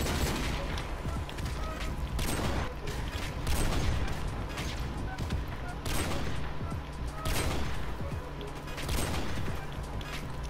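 Rapid sniper rifle and gunfire bursts in a video game crack and boom repeatedly over a dense, noisy background of battle sounds, loud and continuous throughout.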